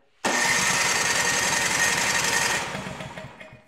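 A Craftsman snow blower engine fires up with the choke off, a loud, rapid chugging roar that runs steadily for a couple of seconds, then sputters and fades as it dies out.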